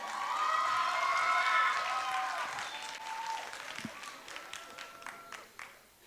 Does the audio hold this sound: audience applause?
yes